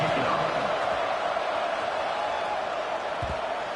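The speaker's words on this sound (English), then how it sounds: "this crowd is buzzing after that last score" A college football stadium crowd after a score, a dense, roaring buzz of many voices that stays loud and steady across the whole moment.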